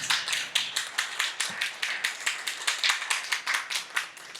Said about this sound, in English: give a huge applause for our ambassador and the guest, Valtteri Bottas